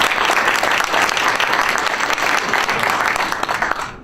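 A room of people at a county committee breakfast applaud, a dense steady burst of clapping that holds for about four seconds before starting to taper off, with no voices standing out.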